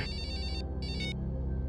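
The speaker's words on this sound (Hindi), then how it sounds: "उन्हीं अपराधियों का फोन है सर" A telephone rings in a tense police drama scene, two electronic bursts of ringing with a brief gap between them, loud and close over a low background hum.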